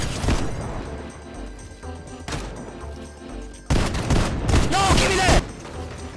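Gunfire and a sniper shot in a Nintendo Switch shooter game: a dense burst of rapid shots up front, a single sharp crack midway, then loud sustained firing with bright ricochet-like whines near the end, all close and punchy.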